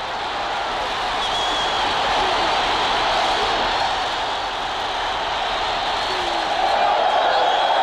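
A large football crowd roars continuously after a Kaiser Chiefs goal in 1984 South Africa, a dense, loud, sustained wash of cheering swelling toward the end.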